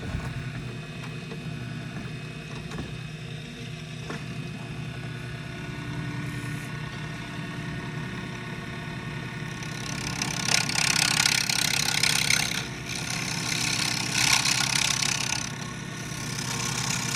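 A wood lathe spinning at around 2200 RPM while turning an Aero pen kit blank with carbide tools, a steady mid-pitched motor hum with a louder hissing cutting sound swelling in the latter half.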